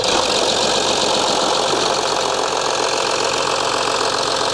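An Audi A8 D3 3.0 TDI diesel engine runs with a loud, steady rattling clatter just after starting, the continuous engine noise filling the whole stretch with no voices.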